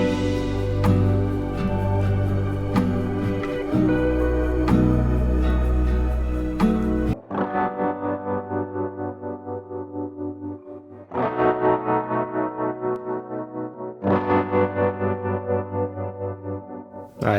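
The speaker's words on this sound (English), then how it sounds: "I'm adding another electric guitar drenched in reverb and tremolo, hard pan to create depth and thickness." Reverb- and tremolo-soaked electric guitar, hard panned, in an indie R&B bedroom production: first under a full dense mix, then alone as pulsing, wobbling sustained chords with long washy tails.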